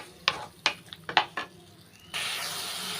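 Sliced banana is stirred into hot ghee in a pan, with several sharp scraping and clinking strokes of a spoon against the pan, then a sudden steady sizzle of frying that fills the last second.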